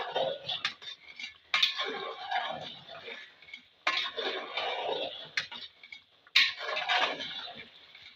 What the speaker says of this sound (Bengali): আবারও আমি সবকটা উপকরণ একবার ভালো করে নেড়ে দেবো আবারও ভালো করে কষিয়ে নেবো